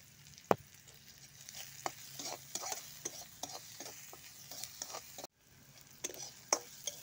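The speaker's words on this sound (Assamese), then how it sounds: "পিঁয়াজখিনিও আমি অকণমান টাইম ভাজি ল'ম।" Onions fry in a pan with cumin and coriander powder, a quiet sizzle under intermittent stirring scrapes and light utensil clicks, with a brief break partway through.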